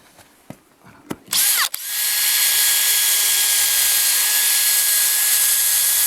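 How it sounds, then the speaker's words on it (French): A power drill working on wood, with a few knocks and a brief whir before the motor spins up into a loud, sustained high whine close by. "Puis là je vais le faire sûrement avec la perceuse."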